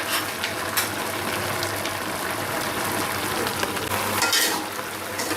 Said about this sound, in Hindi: इस तरह स्प्रेड चम्मच लें, उसके साथ आप अच्छे से मिक्स कर लें।